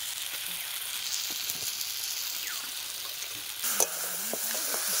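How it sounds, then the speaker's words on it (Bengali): Freshly caught prawns are stirred into frying masala, giving a steady, close sizzling hiss with light scraping stir sounds and a brief clatter near the end, with no voices. "এবারে এই চিংড়ি মাছ দিয়ে দেবো মশলার মধ্যে"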